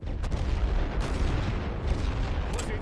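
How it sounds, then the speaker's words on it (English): Enemy mortar fire in The Great War: Western Front, heard as a rumbling stretch of low booms and distant thuds over a constant battlefield din, with a few sharper impacts standing out. "they're trying to hit me with their mortars right now"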